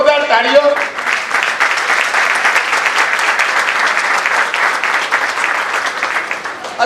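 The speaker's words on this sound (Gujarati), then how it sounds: "એટલે ભૂપેન્દ્રભાઈને જોરદાર તાળીઓ." An audience at an honouring ceremony for a mass wedding donor breaks into sustained, dense applause, with a voice briefly audible at the start before the clapping carries on steadily.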